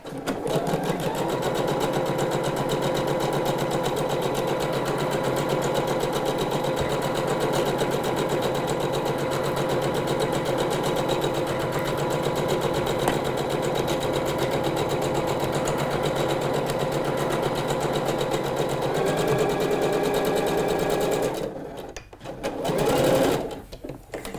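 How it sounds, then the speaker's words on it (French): A sewing machine stitches 5 mm from the fabric edge on a dress, running in one long, steady, close burst that cuts off near the end, followed by a short extra spurt. "Donc je passe à la machine et là je pique à 5 mm du bord"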